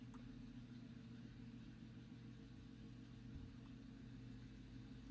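Steady low idle of a car parked outside a window, a faint continuous engine rumble with a slight swell midway, heard alone without voices.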